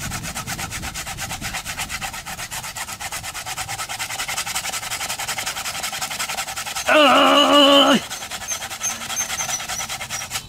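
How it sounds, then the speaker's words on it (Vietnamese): A small handsaw cuts through a coconut tree trunk, giving a steady, close rasping scrape throughout, with a brief louder, harsher burst of sawing near the end. "dùng cây xà beng hoặc là cây cưa nhỏ này mình sẽ cưa đứt cây dừa đó"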